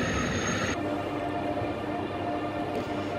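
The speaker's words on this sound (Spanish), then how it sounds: "El ruido de los trenes es increíble." Steady rumbling train noise fills the clip, with a high squealing tone at the start that cuts off, as trains pass through Zaragoza Delicias station.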